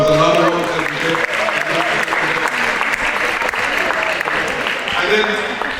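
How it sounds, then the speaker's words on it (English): Sustained audience applause fills the room for the committee at a student meet-and-greet event, dense and steady throughout with faint voices mixed in and a slight swell at the end. "If we could give the committee a round of applause."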